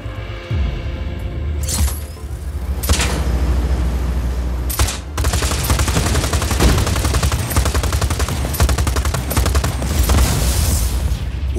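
Rapid bursts of video-game gunfire in Just Cause 4, aimed at a generator, rattle loudly and near, with sharp single shots early on and then sustained automatic fire.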